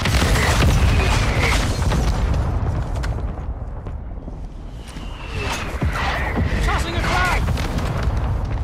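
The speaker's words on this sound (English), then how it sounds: "Mortar strike inbound." Mortar rounds land in a video game match, heavy booming blasts rumbling loud and close at the start and again toward the end, with voices talking over the explosions.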